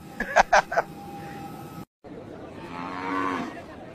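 A cow moos in one long, loud, drawn-out call near the end, after a burst of short sharp sounds and a brief silent gap.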